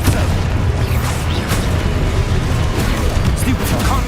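Expulso explosion spell cast in the video game Hogwarts Legacy, a dense, continuous booming roar with rumbling low end and scattered bursts, loud throughout the whole stretch.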